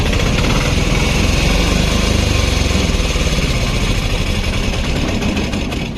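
A motorbike engine in good running order idles loudly and close, a steady buzzing drone with a fast even pulse that holds for several seconds, no talk over it.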